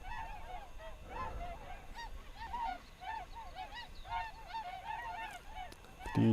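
Swans honking repeatedly outdoors, a steady series of nasal calls over a constant background murmur of ambient noise, with no talk present.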